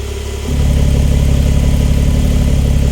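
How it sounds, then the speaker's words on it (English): A Porsche 992 Turbo S engine idling once warmed up, a steady low rumble that steps up in loudness after half a second and then holds an even, throbbing drone in a garage. "Idle came down because the car is warmed up a little bit."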